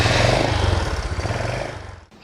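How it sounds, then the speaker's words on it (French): A motorcycle engine being started and left running during a decarbonising treatment, a steady loud low rumble that fades and cuts off near the end. "et démarrer la moto."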